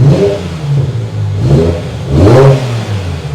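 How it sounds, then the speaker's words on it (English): A BMW M6 engine revved in neutral, two or three rising throttle blips over a rough idle, loud and close with no talking. "And now if we pop it into neutral and just see if the car now revs."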